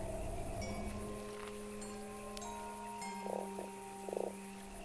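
Croaking of a toad character in the video game Fran Bow, a few short soft croaks near the end over a steady hum of game ambience and music.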